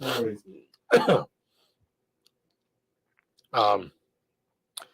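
A few short, separate bursts of throat clearing and coughing from one person, close by, with silence between them.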